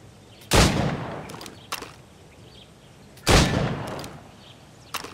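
Two sharp gunshots ring out a few seconds apart at practice targets in Assassin's Creed Rogue, each a loud crack trailing into a short decay, with a few faint clicks between them.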